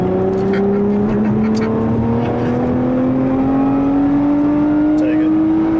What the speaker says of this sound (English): You get on the gas hard now.